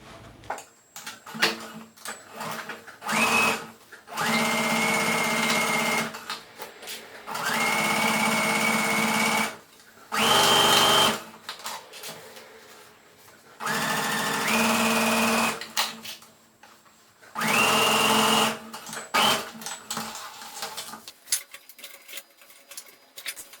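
A sewing machine stitches a seam on a cork tote bag in five or six sustained bursts of fast whirring, each a few seconds long, separated by short pauses and small handling clicks.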